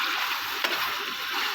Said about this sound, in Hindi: ऑयल में जैसे चिकन फ्राई हो रहा है